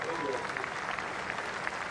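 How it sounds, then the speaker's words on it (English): A cricket crowd at the New Zealand v England Test applauds England reaching 400, a broad even patter of clapping under a commentator's voice. "Applause for the 400"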